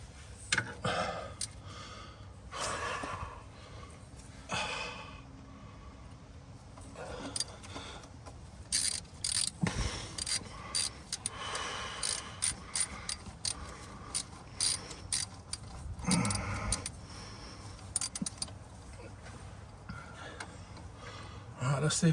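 A socket ratchet working on a Detroit 60 Series engine in a Freightliner Classic XL, with quick clicking pawl bursts coming in short spurts between clanks and rustling, close by and fairly faint, with someone talking at times.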